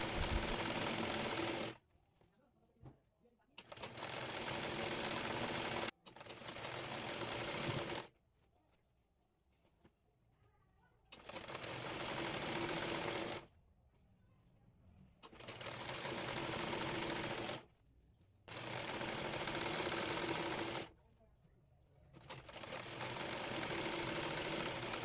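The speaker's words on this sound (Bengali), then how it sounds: "এবার রাবারটি ভিতরে রেখে রাবারটি হালকা করে টেনে টেনে সেলাই করে নেব।" A sewing machine stitches elastic into the waistband of palazzo pants in a series of about seven steady runs, each several seconds long, separated by short quiet gaps, with no talk.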